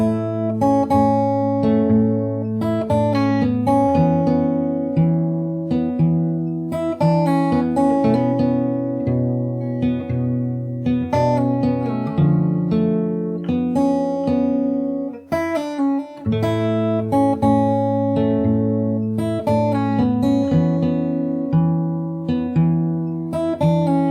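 Fingerstyle acoustic guitar playing the verse of a song, steady picked notes over a sustained low bass pattern, close and clear with no voices.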